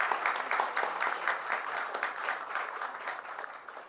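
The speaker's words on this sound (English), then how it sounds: "let's give a round of applause to all the panelists." An audience at an event in Mumbai applauds the panelists, a dense patter of clapping that stays steady before slowly thinning out, with no talk.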